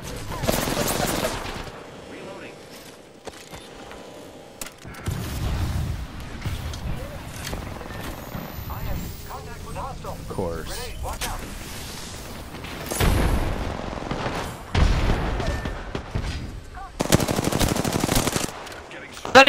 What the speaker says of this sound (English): Ah, she's shooting me!